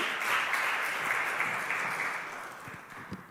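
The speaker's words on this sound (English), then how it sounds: "a round of applause for Lauren and Dion for the amazing discussion." Conference audience applauds after a panel discussion, a burst of dense clapping that gradually thins and fades over a few seconds.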